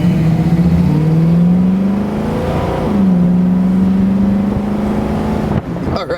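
A 1932–34 Ford V8 hot rod engine revs close and loud, its steady rumbling drone climbing and dipping in pitch through several throttle blips before cutting off abruptly, with some wind noise.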